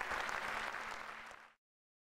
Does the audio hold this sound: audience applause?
yes